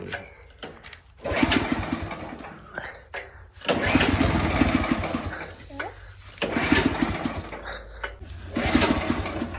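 A tractor engine cranks and catches in bursts on a farm, with repeated rough mechanical chugging stopping and restarting, close and fairly loud, as voices talk over it between attempts.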